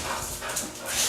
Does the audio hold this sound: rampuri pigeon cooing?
no